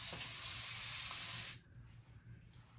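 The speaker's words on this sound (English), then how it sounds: "I'm gonna take my spray bottle, just put some more water into my hair" A spray bottle misting water onto hair in one steady, close hiss lasting about a second and a half, then cutting off to quiet room noise.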